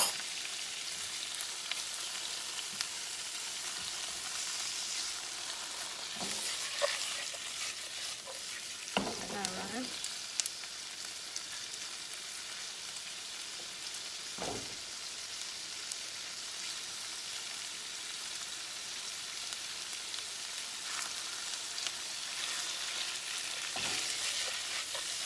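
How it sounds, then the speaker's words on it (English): Salmon and onion sauté in a pan over high heat for bitter melon in black bean sauce, giving a steady close sizzle broken by scattered spatula scrapes and clatters, with no speech. "Keep it on high heat so it can kind of brown and saute the salmon a little bit."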